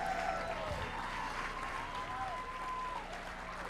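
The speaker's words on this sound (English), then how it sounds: "we could do a better round of applause for Pedro Noguera" A conference audience applauding for Pedro Noguera, a steady, moderately distant wash of clapping throughout with a faint tonal voice-like line threading over it.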